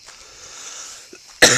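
After a faint hiss, a single sharp cough bursts out abruptly and loudly at the very end.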